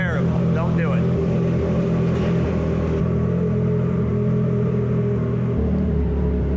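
A Triumph Daytona motorcycle engine drones steadily while riding, a continuous low, loud hum with wind rush. A rider talks over it.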